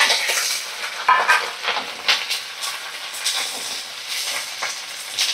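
Grated coconut and curry leaves fry in hot mustard oil over medium flame, a bright continuous sizzle broken by scraping and clinks of a spatula against the pan, close and without voices.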